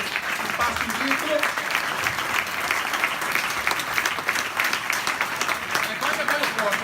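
A crowd at an Italian Democratic Party political rally gives warm, continuous applause of thanks to Stefano Fracasso, dense hand-clapping sustained at full strength, with scattered voices mixed in.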